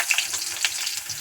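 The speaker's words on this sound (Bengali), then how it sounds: "তেলটা গরম হলে আলুটা ফ্রাই করে নেব।" Potatoes fry in hot oil, a brief close hiss of crackling sizzle with small spitting pops.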